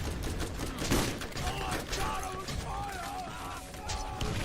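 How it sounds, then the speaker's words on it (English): A grenade blast goes off in a video game to launch a grenade jump: a sharp burst early on, followed by crackling, clattering game noise under a steady bed of sound. "We're gonna do a very cool grenade jump here."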